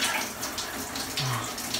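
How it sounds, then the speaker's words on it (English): Cold shower water runs in a steady close hiss and splatter indoors beside a cold exterior wall on a snowy day, with no voices. "In here taking a cold shower."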